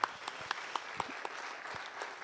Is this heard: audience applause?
yes